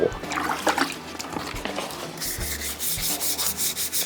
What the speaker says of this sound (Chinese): 然后拿起来把它600的砂纸整个全部一打磨。